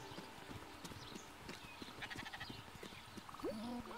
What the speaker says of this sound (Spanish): Has traído una segunda oveja.